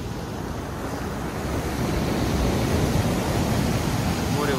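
Steady, loud rushing of Black Sea waves at Sochi in May mixed with wind buffeting the microphone, a continuous wash of surf without distinct breaks.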